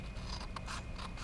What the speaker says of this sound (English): I'm going to take a scissors and I'm going to cut